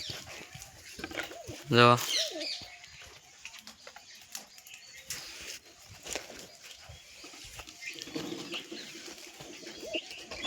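Pigeons coo softly in a backyard, with one louder burst of calls near the start, while someone talks over them and other faint rustles fill the background.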